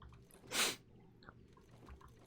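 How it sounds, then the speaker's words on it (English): A person sneezes once, a short bright burst standing out loudly over quiet background noise and faint small sounds, with no talking. "I just sneezed"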